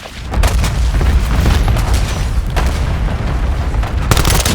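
Heavy laser-guided bomb explosions in a Call of Duty zombies match, a continuous dense barrage of loud, rumbling booms and blasts layered over each other for several seconds, with a fresh sharp impact near the end.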